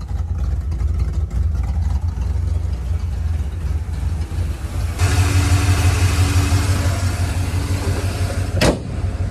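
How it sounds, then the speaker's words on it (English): A Ford EFI 302 truck engine idles smoothly at factory settings, a steady low rumble heard up close, with a brighter band of mechanical noise joining midway and a brief sharp click near the end. "the truck's back to its factory smooth idle"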